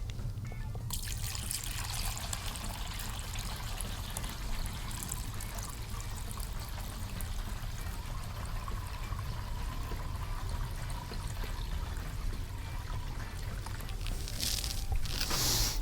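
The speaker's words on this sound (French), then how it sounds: "Allez, on va mettre 20 litres d'eau là-dedans." Water pours steadily into a large container being filled for a homemade solar pump test, a loud, continuous splashing rush that runs alone through the whole stretch.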